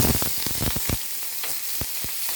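Dried red chillies and panch phoron frying in hot oil, a close, constant hissing sizzle punctuated by sharp crackles and pops.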